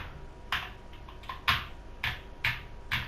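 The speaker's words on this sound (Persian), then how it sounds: "من کیبورد گرفتم یک خورده ای که صدای قشنگی داره" A mechanical computer keyboard gives six sharp, evenly spaced key clacks, close and crisp against a quiet room hum.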